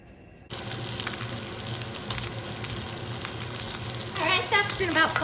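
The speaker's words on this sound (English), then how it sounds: "I've got about 1 pound of pork shoulder to put in there. We're just gonna get it seared." Pork shoulder sears in an oiled pan, a steady broadband sizzle starting abruptly and continuing close and loud, growing busier toward the end with faint sounds of running water or handling.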